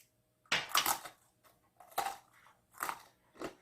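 Loud, crisp crunching of a candied lotus root chip, four or five separate bites with short pauses between, close up and with no talking.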